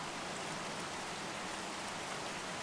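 Steady rainfall pattering on leaves and splashing onto the ground, a dense even wash of drops at moderate level, with no voices.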